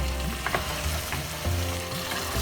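Green onion and onion bulbs frying in a pan over medium-high heat for a green mutton curry, with a dense continuous sizzle and occasional stirring scrapes, no voices.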